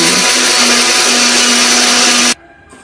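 A loud electric blender runs steadily, mixing batter with flour, salt, pepper and seasoning, close and continuous before cutting off abruptly near the end.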